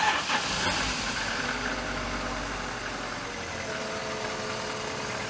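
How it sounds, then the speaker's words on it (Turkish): A cold petrol car engine, started on a snowy, freezing day, settles into a steady idle; the low mechanical drone stays even and fairly close throughout, with no talk over it. "arkadaşlar aracı soğukken bir çalıştıracağız"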